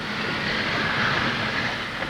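The Nilgiri Express rack railway train in India runs with a steady, broad mechanical roar and rumble, continuous and fairly loud, with no voices over it.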